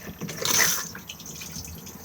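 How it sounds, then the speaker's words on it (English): A Thetford cassette toilet in a Caravelair Antares 485 caravan is flushed by hand pumping, giving a short close splash and rush of water into the bowl that quickly fades to a faint trickle. "And then flush just by pumping."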